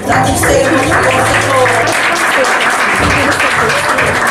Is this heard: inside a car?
no